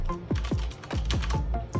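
Keys clack on a new Bluetooth split keyboard in a quick, uneven run of about eight sharp, close strikes, loud and alone with no talking.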